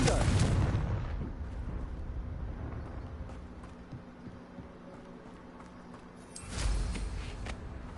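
A Confringo fire-blast spell from the Hogwarts Legacy video game bursts with a loud broadband boom at the start, rumbles down over several seconds, then erupts again near the end.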